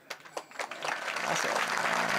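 Kirtan audience breaking into applause, a few scattered claps at first swelling into sustained crowd clapping that holds to the end, with a brief spoken word at the start.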